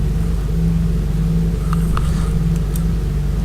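Steady droning roar of a DC-3's piston engines in flight as the throttle is eased back for descent on a Buffalo Airways run from Hay River to Yellowknife, loud and continuous with a deep hum and no break.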